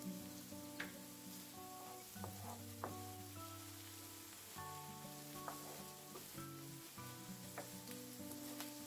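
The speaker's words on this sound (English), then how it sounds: "garlic and onions in the frying pan" Quiet, steady sizzling of garlic and onions frying in a pan, with occasional soft pops and clinks of stirring.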